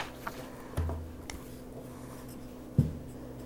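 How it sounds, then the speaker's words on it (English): A pen scratching out a math problem on a sheet of paper, with short soft strokes and a couple of taps against the quiet room. "Write down a math problem on this piece of paper."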